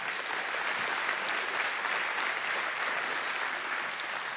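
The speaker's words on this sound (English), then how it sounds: "Yeah, we can clap for that." Applause from a church congregation during a service, steady, dense clapping filling the room throughout with a faint murmur of the crowd.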